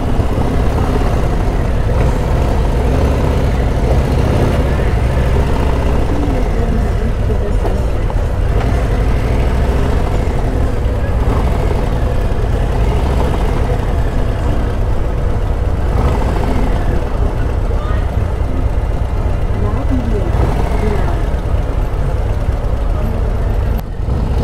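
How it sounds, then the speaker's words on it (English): Exhaust of a 2023 Harley-Davidson CVO Road Glide or Street Glide idling, a loud continuous low rumble with a steady throb that runs the whole time, with no talk over it. "You can hear the exhaust"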